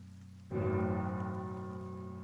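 Bell tolling in the video game Pillars of Eternity: a single deep, resonant bell strike lands abruptly after quiet ambience, its rich ringing overtones sustaining and slowly fading.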